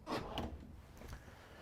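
A wooden drawer in the bedroom of a 2015 Newmar Ventana 3436 motorhome slides and bumps shut, giving a couple of close, soft knocks and scrapes with no talking.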